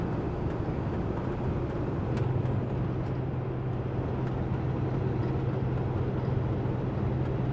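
A truck cab interior during a stop, with steady low engine rumble and a sharp release partway through that fits an air brake, continuous and fairly loud with no talk.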